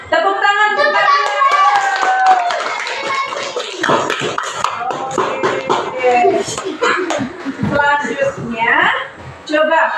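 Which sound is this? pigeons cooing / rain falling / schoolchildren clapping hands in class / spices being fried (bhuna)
schoolchildren clapping hands in class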